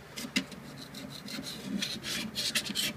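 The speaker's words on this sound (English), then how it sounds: "Get that plumber's putty out of there" A small screwdriver scrapes old plumber's putty from a metal sink strainer during a garbage disposal installation, producing close, gritty rasping strokes in an uneven rhythm.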